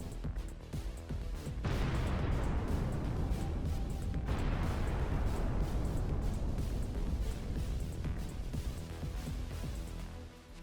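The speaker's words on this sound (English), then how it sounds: "This is a Russian truck with ammunition, which will detonate in a few seconds after a Ukrainian drone strike and make a big fireworks display." A Russian ammunition truck hit by a Ukrainian drone detonates in a war zone: a long, loud rumbling roar of blasts and crackling bursts that swells after a couple of seconds and keeps churning, with no voices.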